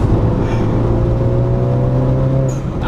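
A modified Honda Civic Type R engine pulls under light throttle from inside the cabin, a steady loud drone whose tone climbs slowly. It ends with a brief whoosh near the close.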